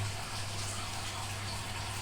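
A washing machine running on an inverter draws water in. The result is a steady, moderately quiet rush of water flowing into the drum, with a constant low hum underneath and no speech.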